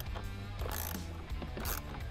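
A ratchet turns out a 10mm bolt on a C8 Corvette during a steering wheel install, giving a steady, close run of quick metallic clicks with no talk.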